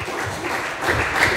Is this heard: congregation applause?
yes